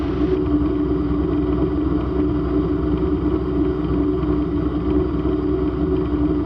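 The Raptor prototype engine idles steadily, a continuous low mechanical drone with a constant even tone, close up and with no speech.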